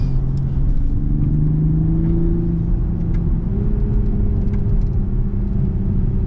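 A 2021 Toyota Supra accelerating hard, heard from inside the cabin as a loud, continuous engine drone climbing in pitch, with a steady road rumble beneath.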